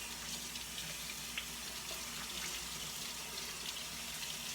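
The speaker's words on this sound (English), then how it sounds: "I'm going to rinse this brisket off." Tap water runs steadily over a brisket being rinsed in a sink, a soft continuous splashing at moderate distance with small irregular drips and spatters, no voices.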